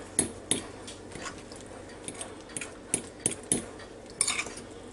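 Deviled egg filling being mixed with a utensil in a bowl, giving scattered clinks and scrapes at an irregular pace, fairly close and quiet.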